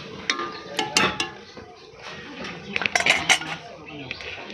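A lid goes onto a wok-style pan simmering a fish curry with potato and eggplant, with a few sharp metallic clinks and clatters, then a quieter stretch and another cluster of knocks; a voice talks softly in the background.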